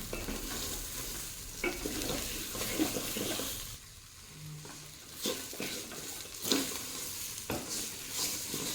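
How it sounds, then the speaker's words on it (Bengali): Dal and green peas fry in a pan with steady crackling, broken up by repeated scraping strokes as a spoon stirs the mixture, close and moderately loud with no talking. "তো মটরশুঁটিটা দিয়েও ভাজতে থাকবো।"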